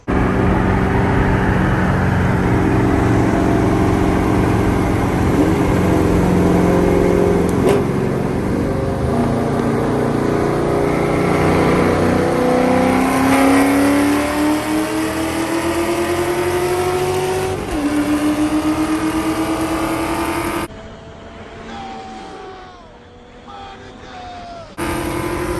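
Loud car engines roar and rev, pitch climbing through gear changes as vehicles race past, with brief tire noise and a quieter stretch near the end.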